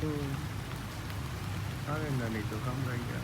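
Steady rain hisses down throughout, with a person talking over the downpour.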